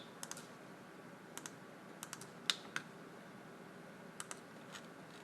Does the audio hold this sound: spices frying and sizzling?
no